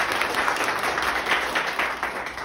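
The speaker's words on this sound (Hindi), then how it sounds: "मिलन सर के लिए जोरदार ताली दे दो।" Loud applause from a crowd at a mobile repair training institute, honoring a teacher; steady dense clapping without a break, close and continuous throughout.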